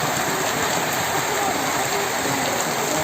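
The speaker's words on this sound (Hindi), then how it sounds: "तेज बारिश शुरू हो गई है जोरों से।" Dense, loud rain pours steadily, a constant close hiss of drops hammering surfaces with no letup.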